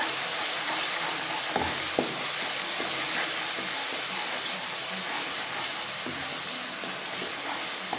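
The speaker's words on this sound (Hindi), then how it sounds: "और हम इसे अच्छा से भून लेंगे।" Steady sizzling of spices with crushed red chili frying in a hot pan for kadhi pakora, a continuous crackling hiss with occasional soft stirring clicks, close and fairly loud.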